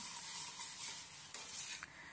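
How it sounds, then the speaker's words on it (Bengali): Two scrambled eggs with onions fry in a pan, a steady close sizzle with soft stirring scrapes throughout. "ডিমটাকে ঝুড়ি ঝুড়ি করে ভেজে নেব"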